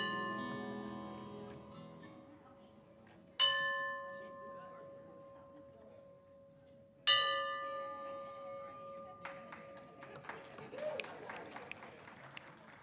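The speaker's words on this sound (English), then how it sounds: "the bell." A church bell rings three separate times during a Unitarian Universalist Sunday service, each strike loud and clear then ringing out in a long decaying hum, followed by a stir of crowd noise and applause.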